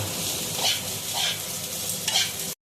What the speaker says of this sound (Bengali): দিয়ে এই পুরো কড়ার ভাতটাকে আমি হাঁড়ির মধ্যে দিয়ে মিশিয়ে নেব।